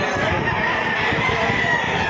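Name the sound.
rooster crowing at a chicken market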